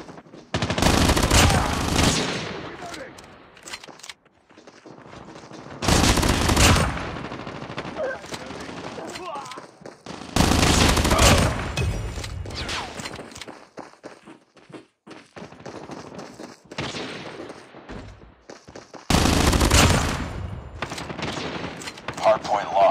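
Loud video game gunfire in a submachine gun firefight, with repeated bursts of automatic shots separated by short pauses, with voices heard between and under the shooting.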